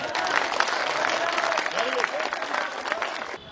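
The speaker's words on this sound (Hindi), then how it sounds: "तालियां तालियां" A room full of children at a career guidance session applauds in a steady, continuous wash of clapping, with voices mixed through the noise until it fades near the end.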